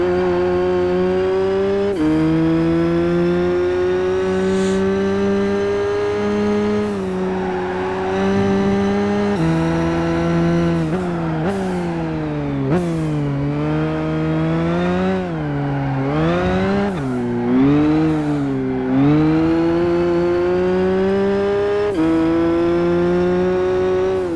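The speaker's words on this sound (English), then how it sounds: "the rev limiter in this thing sounds spicy" A high-revving pace car engine in Gran Turismo 5 screams continuously, its pitch climbing and repeatedly bouncing and stuttering as it hits the limiter. Loud and close, with no voices.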